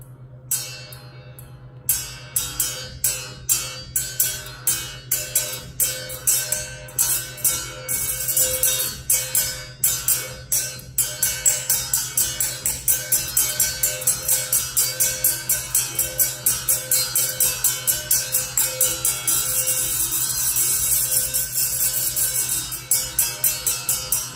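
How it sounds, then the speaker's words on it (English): A small open-backed apple ornament from a thrift shop, with a string attached, is played for a wah-wah resonance: a long series of rhythmic twanging pulses over a low hum, close and fairly loud, with nobody talking. "It's a little apple ornament I found in a thrift shop with a string attached"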